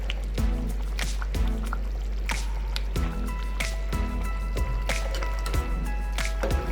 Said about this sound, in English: this again has to really boil now